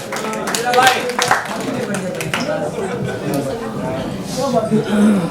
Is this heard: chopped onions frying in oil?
no